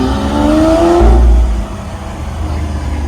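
A Lamborghini Aventador engine roars loud and close as the car accelerates, its pitch climbing for about a second before dropping away to a lower steady drone.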